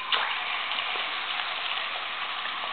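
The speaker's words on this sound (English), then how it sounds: "you just need to run your tap" Tap water runs into a house basin with the stopper in, a steady hissing splash that stays even and close throughout, with no one talking.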